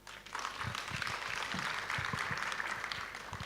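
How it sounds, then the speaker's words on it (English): Applause at a university congregation ceremony, continuous crowd clapping that swells quickly and holds steady, heard from some distance in a large space. "A round of applause for Sylvia"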